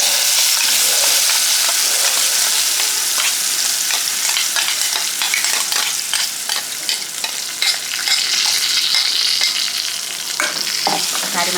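Tomato coriander chutney, freshly ground and tipped into a pan off the stove, being stirred and mixed with a spoon, giving a steady close scraping and wet squelching that runs throughout with faint residual sizzle.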